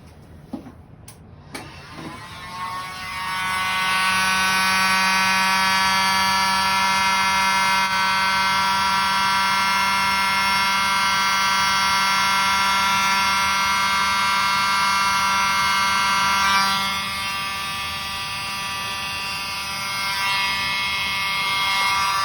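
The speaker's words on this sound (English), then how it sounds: "I'll try my mini blower." A small handheld mini blower runs over wet acrylic paint in a fluid pour, giving a steady, close, high-pitched motor whine that holds for most of the clip and dips slightly near the end, after a few short clicks at the start.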